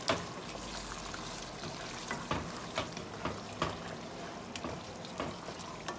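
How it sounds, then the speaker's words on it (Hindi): Meat and yogurt frying in a pot for a Pakistani spinach-and-meat dish, a steady close sizzle with periodic stirring scrapes and clacks every half second or so, no talking. "इसको भुनेंगे।"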